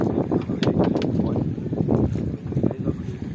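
An outboard motor on a canoe idles and revs during a test run on the Tapajós river, a steady low rumble with bursts, mixed with wind buffeting the microphone and water noise.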